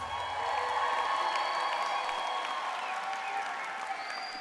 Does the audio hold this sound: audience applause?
yes